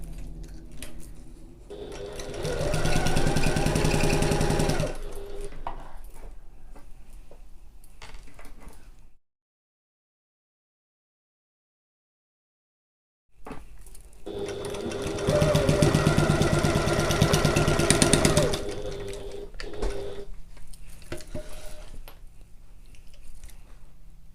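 A sewing machine back stitching a pocket runs in two long, steady bursts of rapid mechanical stitching, close and loud, separated by a few seconds of silence.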